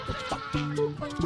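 A chicken being carried clucks in short, irregular bursts, faint and nearby at an outdoor safari park, with some background noise.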